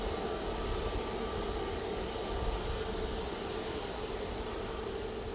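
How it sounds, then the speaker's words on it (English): A Jet2 Boeing 787 Dreamliner taxiing out at Manchester Airport, heard as a steady, broad jet engine roar that holds at an even level throughout. "Got our first Dreamliner coming out. It's the Jet2 going off to Tenerife by the looks of it"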